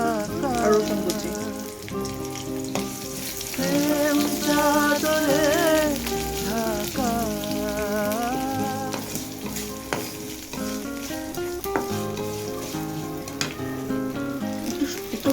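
Chopped onion and garlic sizzle steadily in soybean oil for a desi-style Indian dal makhani, a dense continuous crackle with brief stirring scrapes, set under loud harmonic background music.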